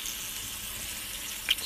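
Great white Alaskan fish frying in coconut oil in a pan, a steady, soft hiss of sizzling with no talking.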